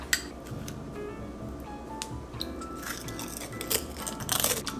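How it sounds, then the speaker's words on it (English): Crunchy homemade chips being eaten with a lemony pepper aioli dip, giving close, irregular crisp crunches and bites with light clinks of dishes, rising to a louder burst of crunching near the end; no one speaks. "These are just the most like crunchy, fresh tasting chips."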